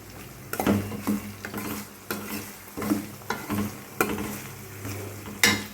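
Onions sauté in a pan for chana masala, a soft sizzle broken by repeated scraping stirs of a spoon against the pan at an uneven rhythm, close and moderately quiet.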